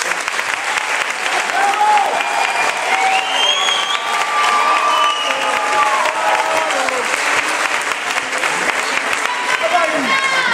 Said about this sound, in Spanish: Así que un aplauso para ellos, ¿verdad?